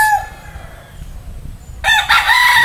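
A Boston roundhead stag, a young rooster, crows close by. A call fades at the start, a quiet stretch follows, then a loud, strong crow comes near the end.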